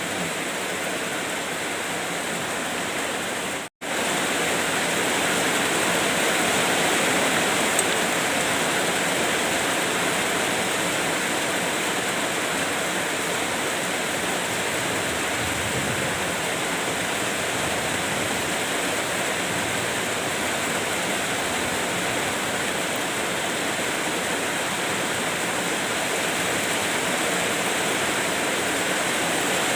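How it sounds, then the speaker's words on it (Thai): Heavy rain pouring down steadily, a dense, even roar of water that stays loud throughout with a brief dropout near the start, no voices. "สายฝนโปรยปลาย"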